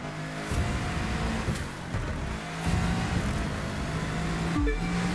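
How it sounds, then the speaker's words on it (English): A Citroën hypercar races in The Crew 2, its engine holding a steady droning note that rises and falls with throttle and gear changes, heard alone without talk. "Man, I feel so good to be driving on the Citroën hypercar again"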